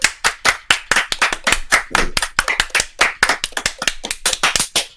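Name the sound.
podcast hosts clapping together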